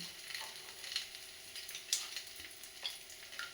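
Boiled potatoes fry quietly in a pan, producing a faint, steady sizzle broken by small crackles and light stirring scrapes.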